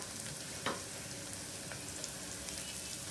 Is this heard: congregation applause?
no